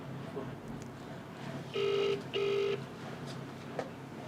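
A phone call being placed, heard as two loud, steady electronic tones about half a second each with a short gap between, over quiet room noise.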